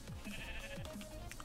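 Sheep in Minecraft bleat repeatedly in short wavering calls, with several overlapping bleats close by over a steady game background and no talking.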